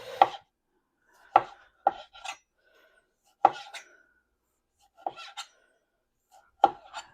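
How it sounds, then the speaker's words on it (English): A knife slices through a ripe tomato on a cutting board: six crisp, separate cuts spaced a second or two apart, each a sharp knock with a short wet crunch, close and clear, with silence between. "we are fixing to start cutting the tomatoes"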